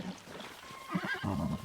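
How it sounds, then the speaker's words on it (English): A horse in Zelda: Tears of the Kingdom gives a short, fairly faint whinny that rises in the second half, with no talk over it. "That horse is trying to kill me."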